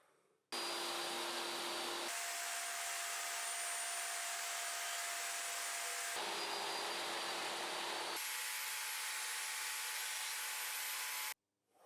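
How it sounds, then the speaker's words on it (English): A table saw fitted with a dado stack cuts grooves in wood for an assembly table, two long loud whining passes, each starting with a spin-up and running steadily for several seconds, with no one talking. "Since the dado stack is already installed in my table saw, I'll cut the required grooves under the tops."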